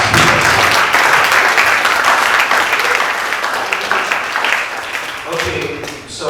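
Audience members at a forum talk show give the speakers a round of applause, close dense clapping that stays strong and then gradually thins toward the end.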